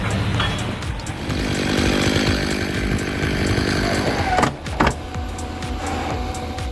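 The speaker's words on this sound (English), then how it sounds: "You can see a perfect demonstration of the so-called dangerous chainsaw kickback." A chainsaw cutting a tree runs loudly and steadily, then kicks back with a sudden jolt and sharp cracks and a brief drop before the engine continues.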